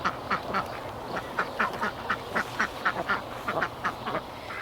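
Ducks quack repeatedly in quick bursts, several birds calling close by over a low background murmur.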